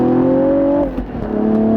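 A 2016 Cadillac ATS-V with a 6-speed manual accelerates hard, its engine droning loud and close, then dips briefly through a no-lift upshift before pulling again at a lower pitch.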